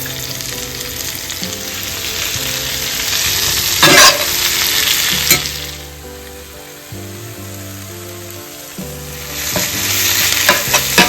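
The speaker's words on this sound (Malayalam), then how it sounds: "നമുക്ക് എപ്പോഴും ഇങ്ങനെ ഇളക്കിക്കൊണ്ടിരിക്കാം. നന്നായിട്ടൊന്ന് വഴക്കി എടുക്കാം കേട്ടോ." Sliced onion sautés in hot oil with ginger, garlic and green chilli for a chicken roast, sizzling loudly and steadily, with repeated spoon strokes and scraping against the pan as it is stirred.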